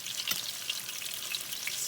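Fish fries in a hot pan with a dense, steady crackling sizzle, close by and alone.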